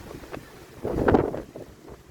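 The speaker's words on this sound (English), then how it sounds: "We got about a 50-knot gust right now, 50-knot wind right here at Central Abaco Primary." A strong wind gust of about 50 knots roars across the microphone at Central Abaco Primary, a buffeting rush that swells to a peak mid-gust and then eases, loud and close, with no speech.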